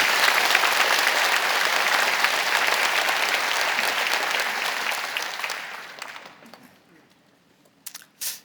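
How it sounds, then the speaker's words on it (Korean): A church congregation gives a big round of applause, a loud, dense clatter of many hands that holds steady, then fades away, followed by a few scattered late claps near the end. "큰 박수 한번."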